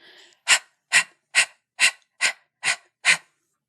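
Seven sharp, breathy exhales through the mouth in a steady rhythm, each a short forceful puff of air, close and fairly loud after a soft breath, as in Kapalabhati yoga breathing.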